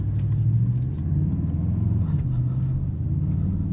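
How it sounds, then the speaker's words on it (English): The V8 exhaust of a 2025 Mercedes-AMG GLE 63 S gives a deep, steady rumble with a wavering low-pitched growl, heard close and alone for a few seconds. "characteristic sound of the V8. You can tell this car from anywhere just because the notes on the exhaust are just pure magic"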